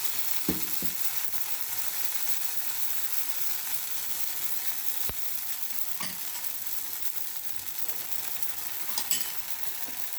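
A dosa sizzles steadily in oil in a pan, a continuous faint hiss with a few soft clicks and taps from the pan.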